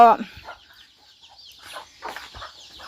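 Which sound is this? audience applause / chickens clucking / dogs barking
chickens clucking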